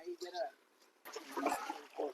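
Water splashing and trickling as a John Deere tractor is washed down on a farm, in uneven bursts with a voice talking over it.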